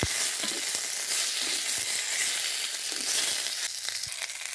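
Green banana peels frying in a pan, a dense steady sizzle close up with light stirring clicks and scrapes, no talking.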